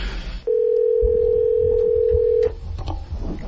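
A steady electronic telephone tone holds for about two seconds on a call line, loud and close, with faint background noise around it and no talking.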